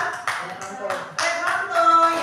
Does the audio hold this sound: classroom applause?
yes